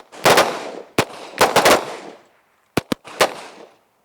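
Handgun shots fired in tactical training drills, sharp loud cracks in quick pairs and short bursts with echoing tails, spaced across a few seconds with no talk.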